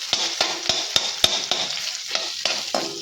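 Chopped onions frying in a pan, a steady bright sizzle cut by sharp, regular clinks and scrapes of a spoon stirring roughly every third of a second, close and fairly loud, with no voices.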